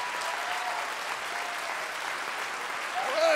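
Audience applause at a comedy show, a steady wash of clapping from a crowd that holds even throughout, with a brief voice rising over it near the end.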